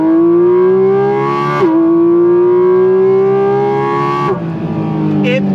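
Close, loud rising engine wail from a naturally aspirated Porsche 718 Cayman GT4 RS accelerating hard in first gear, climbing steadily in pitch, dipping at a gear change, then climbing again.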